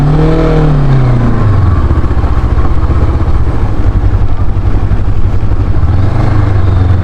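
A Kove 525X adventure motorcycle engine revs and settles while riding, a loud, close, steady drone with pitch swings from throttle changes over continuous wind noise.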